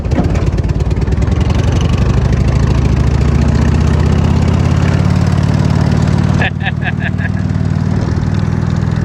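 Cushman Truckster engine running steadily, loud and close, with a brief shift of tone as it is put into first gear and a few short high chirps near the end.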